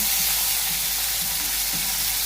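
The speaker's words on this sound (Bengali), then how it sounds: "বন্ধুরা, মাছ ভাজা হয়ে গেছে।" Fish fry in hot oil in a pan, giving a steady, close crackling sizzle with faint low bubbling, unbroken for the whole short stretch.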